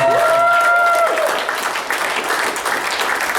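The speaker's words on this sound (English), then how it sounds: "will stand up and give Bacon and Stephanie a round of applause, please." An audience at a sports club's awards presentation night applauds loudly and continuously, dense clapping running throughout, while a brief sustained tone sounds over the first second.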